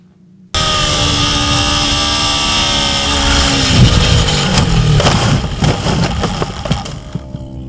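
Motorcycle on a race track during a low-side crash, engine starting abruptly loud and close, with a roaring drone that shifts pitch, then rough scraping clatter and thumps as it fades.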